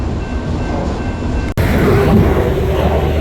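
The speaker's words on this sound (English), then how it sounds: "waiting for the train to pass by" A loud train rumbling past up close, a continuous heavy roar with a brief dip as one car gives way to the next.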